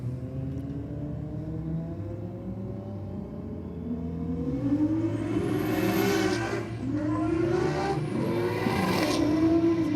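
Drag racing cars accelerating hard down the strip at Sydney Dragway during eliminations, a distant engine roar that swells and sweeps upward in rising revs, with layered engine notes building louder toward the end.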